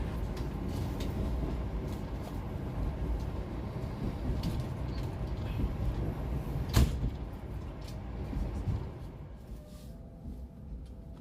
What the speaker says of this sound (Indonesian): Kereta api Tawang Jaya Premium tiba di stasiun Pekalongan